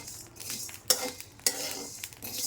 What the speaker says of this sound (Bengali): একটু সময় করে ভাজতে হবে।